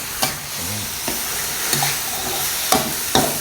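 Banana blossom being stir-fried with tomatoes in a pan gives a steady sizzle, with several louder scrapes and clatters of a spatula stirring at irregular intervals and no voices.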